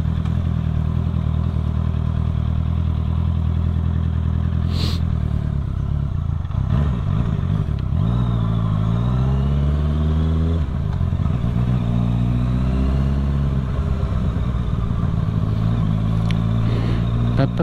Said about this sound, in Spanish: Se me va a apagar hasta la moto.